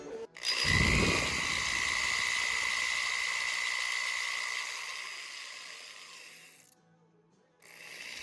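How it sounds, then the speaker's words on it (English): A drill with a 1/16-inch bit whirs steadily for several seconds while building a Kibler Southern Mountain Rifle, close and loud, then slows and stops briefly before starting up again. "Now we can drill it with this drill."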